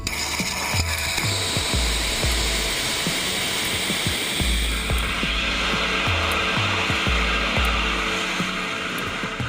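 A Masten rocket engine ignites for a COBALT vertical takeoff flight test, giving a loud, sustained broadband roar with repeated low thumping pulses that continues unbroken.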